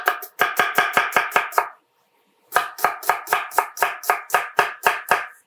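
Garlic and onion chopped on a cutting board with a knife: two runs of fast, even, crisp knife strikes, separated by a short pause.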